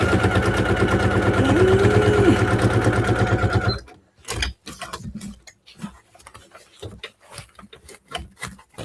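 A standard everyday S6 sewing machine stitching: a loud, steady mechanical whir with a rapid needle rhythm for several seconds, then stopping, followed by scattered soft ticks and fabric rustles.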